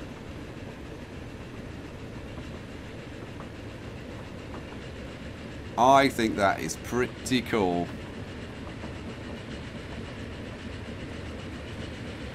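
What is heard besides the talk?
trains running in video game Transport Fever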